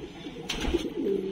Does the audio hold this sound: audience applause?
no